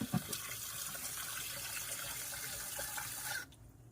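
Water poured from a tap into a pot for cooking rice, a steady close gushing stream that cuts off abruptly near the end, with no voices.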